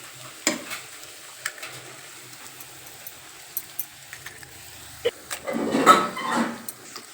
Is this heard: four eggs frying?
yes